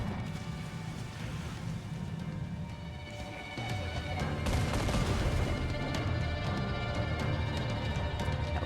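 Enemy mortar fire in Assassin's Creed 4 Black Flag during a naval chase, heavy booms and crashing impacts over a busy game soundscape, growing louder partway through.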